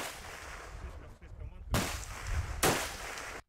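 Rifle shots from about 120 metres at a hunters' Day contest in Russia's Lensky district, two sharp loud cracks well apart with echoing tails over outdoor background murmur.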